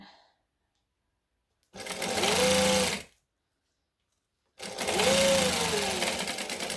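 A sewing machine stitches fabric in two bursts of a second or more each, a loud close whirring rattle separated by silence, with no speech.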